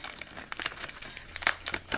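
Strong packing tape is tugged and peeled from a mailed package, a close series of crinkling, crackling pulls with small bursts of rustle, faint and with no talking.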